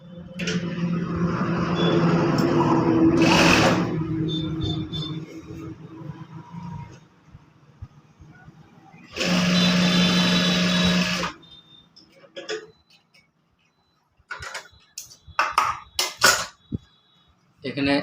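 Sewing machine stitching a cross pocket onto trousers, one sustained motor-driven run in the middle, with someone talking earlier and scattered handling clicks and knocks afterward.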